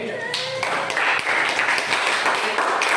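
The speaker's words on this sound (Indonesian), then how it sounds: "Terima kasih tepuk tangan untuk kelompok B." Classroom applause for student group B, a dense wash of clapping from many hands filling the room, steady and fairly loud throughout.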